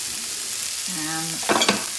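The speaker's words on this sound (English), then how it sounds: "So we will fry that up." Onion fries in a pan on a home stove, a steady soft sizzle with a brief squeak and a few sharp clicks of stirring near the end.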